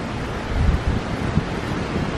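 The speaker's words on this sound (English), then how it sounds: "you can hear the wind coming through right now" Strong hurricane wind gusts outside during a Florida storm, a loud, close, buffeting roar with low rumbling blasts against the microphone and no voices.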